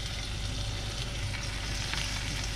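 A Chinese diesel heater gives a steady crackling sizzle like frying bacon, continuous and close, with no voices.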